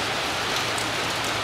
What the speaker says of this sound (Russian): На сегодня у нас дождь идет и идет, никак остановиться не хочет.